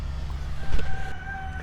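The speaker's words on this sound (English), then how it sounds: "you can hear my rooster in the background" A brief rooster crow rises faintly in the distance over a steady low rumble of background noise.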